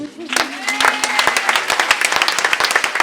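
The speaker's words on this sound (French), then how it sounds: "faire un tonnerre d'applaudissements à Caroline Perrault" Loud, close applause from a crowd honoring a woman at a charity event, dense sharp claps pattering steadily after a brief voice at the start.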